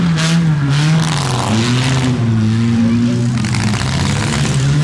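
Race cars roar around a figure 8 demolition derby track in Huntsville, Ontario, their loud engines droning and shifting pitch as they pass, while an announcer calls out the laps over the noise.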